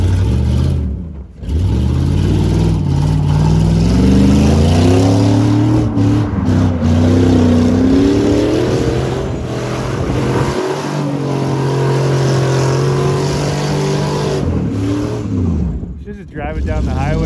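A 2020 Ford F150 pickup's engine revs loud and close while doing power donuts, holding a strained, wavering roar that rises and falls, with voices talking over it.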